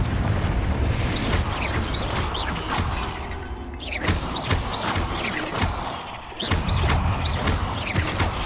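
Confringo blasting spells burst in booming explosions in the Hogwarts Legacy video game, loud and close among rumbling, crashing game effects that fill the whole stretch without pause.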